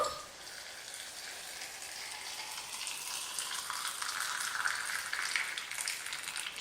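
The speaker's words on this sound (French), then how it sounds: "Alors, je vais verser de l'eau." Hot water at about 90 degrees pours steadily into a teapot for Moroccan mint tea, a continuous close splashing and trickling that rises slightly in pitch as the pot fills. No one talks.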